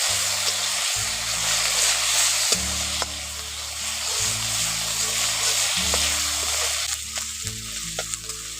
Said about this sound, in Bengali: আদা রসুন কাঁচা আদা লঙ্কা বাটা একসঙ্গে ভালো করে একটু কষে নিচ্ছি